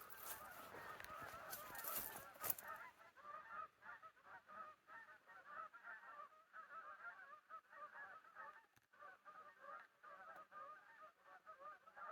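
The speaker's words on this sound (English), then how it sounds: "Can you hear the geese? They're getting closer." A flock of geese honks continuously at a distance, the calls overlapping in a rhythmic, chattering chorus after a brief rustle of wind.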